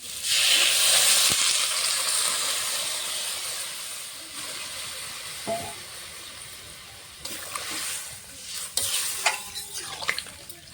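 Potato and cauliflower stir-fried with spices in a pan: loud sizzle and hiss at first that gradually fades, followed by intermittent scraping stirs and clinks.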